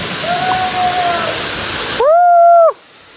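Rushing water from the Junani waterfall makes a steady, dense roar for about two seconds, then cuts off abruptly as a brief tonal voice-like sound takes over.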